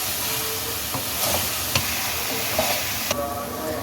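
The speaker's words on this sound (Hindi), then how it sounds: "एक मीडियम प्याज, जिसकी मैंने चॉप में कटिंग की है, वो डाल दें और प्याज को इसमें हल्का सा फ्राई करें" Chopped medium onion frying lightly in oil in a pan, giving a steady close hiss and sizzle with a few faint clinks of stirring.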